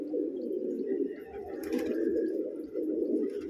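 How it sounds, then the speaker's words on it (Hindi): Several pigeons cooing close by, a continuous overlapping low throaty murmur with a brief rustle of wings in the middle, no talking. "देखो कबूतर अपने आप भड़क रहे हैं"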